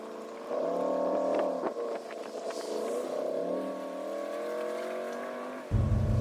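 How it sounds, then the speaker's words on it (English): A pickup truck towing a trailer pulls out and loops around, its engine holding a steady, fairly close drone with slight rises in pitch as it moves, ending with a short thump. "I'll pull out of here and loop around so that the truck is perpendicular to the door"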